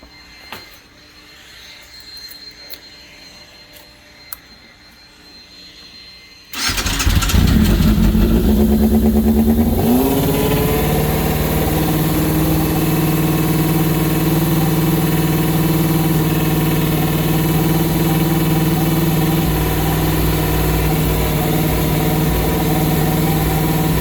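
After some quiet clanking, a 1994 Yamaha FZR600 motorcycle engine starts abruptly, revs briefly, then settles into a steady, loud idle that continues throughout.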